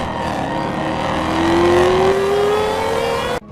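A Shelby Super Snake muscle car with a supercharged 5-liter Coyote V8 revs loudly and close, its pitch climbing steadily before cutting off abruptly.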